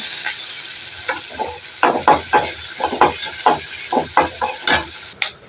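Mustard seeds, onion, green chilli and curry leaves sizzle in hot oil under a steady hiss, with a spoon repeatedly scraping and stirring the pan in short, uneven strokes.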